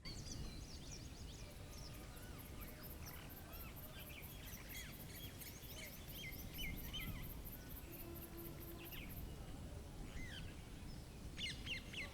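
A pet bird chirps and calls in a series of short, bright tweets over steady background hiss.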